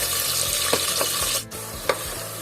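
Hot oil sizzling loudly as onions fry, with occasional stirring scrapes and a short clatter, no talking.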